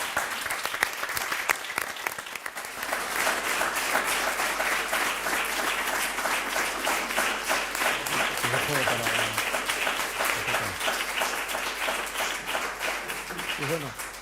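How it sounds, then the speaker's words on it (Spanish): Audience applause at a European Researchers' Night event of the IMDEA Institutes, starting with scattered claps that swell into steady, lively clapping from a crowd, with faint voices briefly audible beneath it. "yo os pediría un aplauso para ellos"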